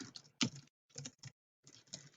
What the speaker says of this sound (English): And this is what it looks like when I pretend type.